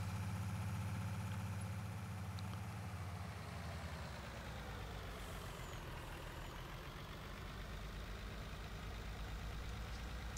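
A MAN truck idles in Farming Simulator 19: a steady low engine rumble with a deep hum that shifts partway through, plus a faint broadband hiss throughout, continuous and fairly close.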